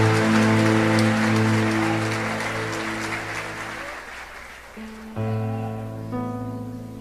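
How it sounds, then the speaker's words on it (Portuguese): A church congregation applauds for Jesus, a broad wash of clapping over sustained organ or keyboard chords that fades partway through before the music swells again. "dando a Jesus uma linda salva de palmas"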